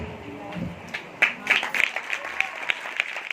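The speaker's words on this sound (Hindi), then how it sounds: "घर में भी बैठकर ताली बजाओ" A church congregation claps hands at a Christian prayer festival session, scattered claps building into quicker, irregular bursts of applause, with a voice faintly present underneath.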